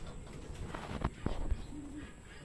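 Soft, distant cooing of a racing pigeon during a club training flight outdoors, a brief low call against faint background noise and a few handling knocks.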